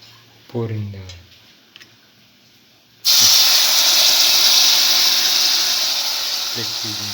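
Split pigeon peas poured into a pot set off a sudden loud, rushing hiss that holds steady and slowly fades; a brief voice and light clinks come before it.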